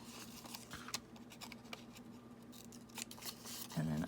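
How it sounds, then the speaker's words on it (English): Scissors make a few quiet, close snips along paper edges while folding a pocket for a junk journal, separated by faint paper rustling. "Unfold it, do a little snip on the edges here."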